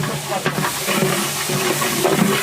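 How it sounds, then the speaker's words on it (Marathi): About five kilos of chopped onions roasting in a large pot for a village-style mutton curry, a close, continuous sizzle with stirring scrapes and bubbling. "मस्त कांदा भाजायचं काम चालू आहे"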